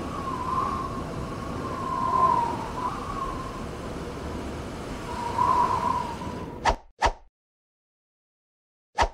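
A vehicle siren wails in a rising-and-falling pattern at moderate distance, then cuts off, leaving a few sharp plops and silence.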